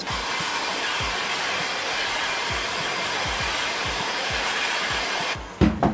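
A heat gun blows a steady, hissing roar of hot air while heating a plastic sole shield on the bottom of a shoe, with faint rhythmic ticking beneath; it cuts off near the end, followed by brief handling noises.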